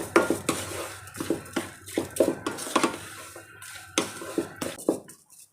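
A spoon scrapes and clinks repeatedly against a metal pan in uneven strokes while mixing sugar into pineapple sheera, close and fairly loud, with no talking.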